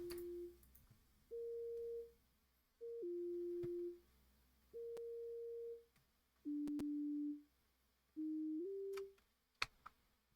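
A synthesizer patch built from three oscillators with raised attack and release plays slow, smooth sustained notes that swell in and fade out, stepping between pitches in a short melodic phrase, alone and fairly quiet.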